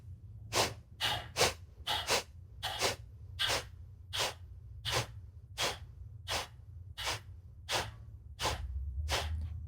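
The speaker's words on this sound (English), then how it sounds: "You're going to pull the breath through the nostrils into the belly and then sweep out the brain as" Kapalabhati pranayama breathing through the nostrils, with a steady series of about fifteen sharp, forceful nasal exhales, evenly spaced, close and loud against a low background hum.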